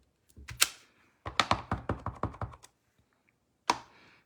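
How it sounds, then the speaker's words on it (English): A rubber stamp inked with crumb cake ink is tapped onto crumb cake cardstock, giving two close taps, then a quick run of about ten light, even taps, and after a pause one last sharp tap, all close up with no talking. "we're just going to randomly stamp on our background piece here, and I am using the crumb cake ink on the crumb cake paper."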